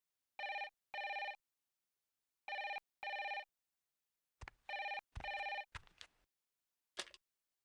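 An old-style telephone bell rings in two pairs of bursts, loud and close, followed by clicks and handling noise as the receiver is picked up.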